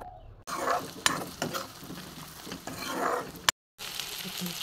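Garlic, cumin, coriander powder, turmeric and salt fry in a hot pan for palak matar paneer, giving a steady close sizzle broken by sharp clicks of stirring, with one brief silent gap.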